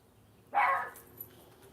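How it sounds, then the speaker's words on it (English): A single short dog bark rings out at a distance over quiet background, followed by a faint click. "we have the dog barking"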